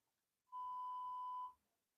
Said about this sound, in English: I heard like a beep, like an alarm